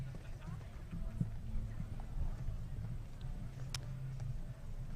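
A show jumping horse's hooves thud rhythmically across an arena during a five-star winning-round competition, faint and steady beneath continuous commentary.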